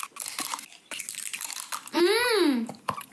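A giant Crunch bar is unwrapped and eaten, with crinkling wrapper and crunchy bites between bursts of speech and a drawn-out vocal tone partway through.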